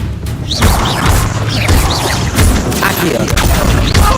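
Fiery spell blasts and combat impacts from a Hogwarts Legacy battle, with several sharp cracks and booming hits in an irregular sequence, loud and close, over battle clamor and brief voices.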